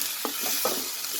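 A tomato fries in a pan with potato and beetroot, a soft continuous sizzle with a couple of spatula stirs scraping through, close and moderately quiet.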